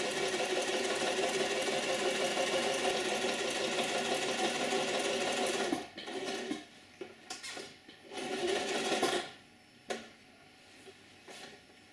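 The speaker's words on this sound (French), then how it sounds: "Il faut donc coudre les parties latérales du masque." A sewing machine stitches the side seams of a fabric face mask, running in a continuous fast hum for several seconds, then stopping and starting in short bursts.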